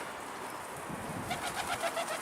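Soft pigeon coos repeat in a low rhythmic series over a faint background hiss, gentle and somewhat distant.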